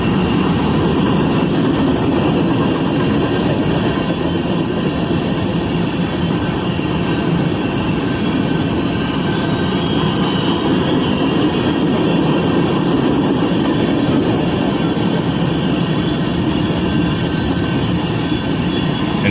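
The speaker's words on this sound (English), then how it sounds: "An even larger cut of covered hoppers on the rear of the train here." A Norfolk Southern freight train hauling a long cut of covered hoppers rolls past close by, giving a loud, continuous rumble and rattle of wheels and cars that holds steady for the whole stretch, with no talking.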